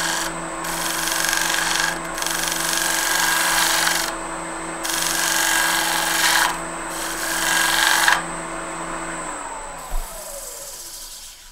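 A fluteless gouge cuts fuzzy wood on a spinning lathe at a high shear angle, producing a loud, close, steady scraping hiss in several sustained passes over a constant motor hum, with brief pauses between cuts.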